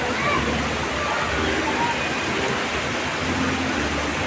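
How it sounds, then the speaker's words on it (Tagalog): Heavy rain pours down steadily in a dense, roaring wash of noise without letting up. "Hala, grabing lakas ng ulan."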